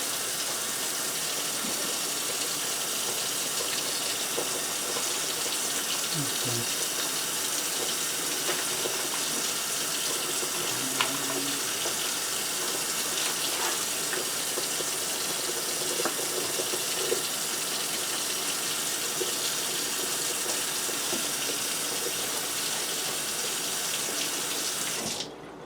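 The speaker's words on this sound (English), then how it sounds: "Here I'm going to put some hot water and" Hot water running from a kitchen tap into a sink while chicken is being prepared, a steady, continuous gush for about twenty-five seconds that stops abruptly at the end.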